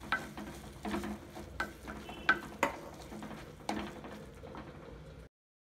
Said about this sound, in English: Saute for a few minutes. Add the chopped spinach.